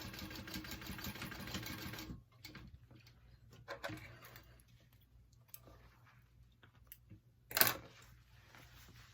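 A sewing machine stitching the side seams of a backpack, a fast mechanical whir for about two seconds, then quiet handling and a brief sharp burst later on, close by.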